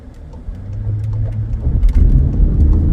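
A Volkswagen Atlas V6 engine drones low and steady while driving, swelling into a louder, moaning pull with road noise as it accelerates, heard from inside the cabin with no talking.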